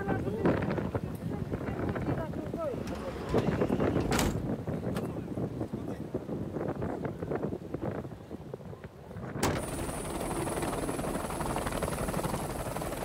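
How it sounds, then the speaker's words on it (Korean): A helicopter flies a seriously ill man out to a city hospital, its steady roar blending with heavy wind buffeting the microphone, and voices talk over it throughout. "제작진은 그를 헬기로 이송하기로 했습니다"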